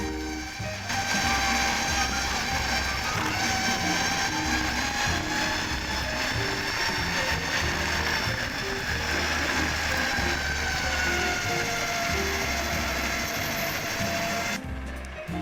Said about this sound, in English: I really like the motor sound during hard acceleration.